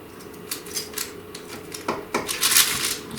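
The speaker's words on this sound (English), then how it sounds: "I'm just gonna cut a little piece here" Knife cutting through gooey Peeps Easter brownies with marshmallow icing, a run of small clicks and taps against the pan, then a few sharper scraping strokes close by, with no talking.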